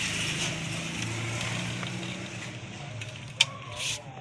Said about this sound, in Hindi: दूसरी साइड पर हमने इसके नीचे कपड़ा रख के इसको सिलाई वगैरह लगा देनी है।